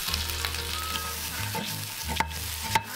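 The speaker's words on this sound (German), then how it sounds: "Nochmal Olivenöl. Panzer und Schalen vom Knoblauch in die Pfanne." Shrimp shells and garlic skins sizzle and spit in hot olive oil in a pan, a steady close frying hiss with a few sharp crackles and stirring scrapes, no voices.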